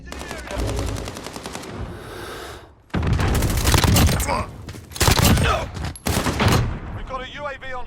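Loud bursts of rapid automatic gunfire in a military shooter video game, several long volleys separated by short pauses, close and dominant, with brief radio-style voices between bursts.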